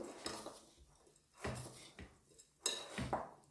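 Spoon working flour into a mini apple, hazelnut and cinnamon cake batter in a bowl, with a few soft scrapes and clinks against the bowl, quiet and close, no voices.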